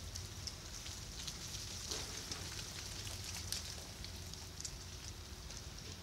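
Ice drops off trees in a wet front yard, making faint scattered pattering and occasional brittle ticks over a steady rain-like hiss.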